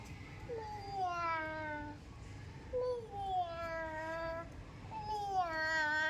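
Three drawn-out, plaintive cat meows, each rising then falling, spaced a couple of seconds apart, close and clear.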